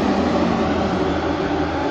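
Moto3 racing motorcycles on the Sepang circuit, heard from right at the trackside edge as a continuous loud engine roar that holds steady for the full two seconds with no speech over it.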